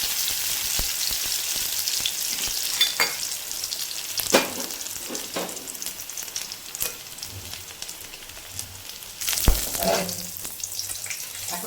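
Dry red chili and chopped garlic fry in hot oil for a village-style vegetarian banana flower dish, a close, continuous crackling sizzle broken by a few sharper pops and scrapes, with no voices.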